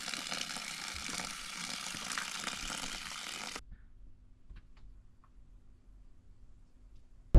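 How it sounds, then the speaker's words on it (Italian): Water pours from a mountain fountain into water bottles as a steady, rushing gush for a few seconds, then cuts off, leaving quiet background hum and a few faint clinks. "Acqua freschissima di montagna riempita."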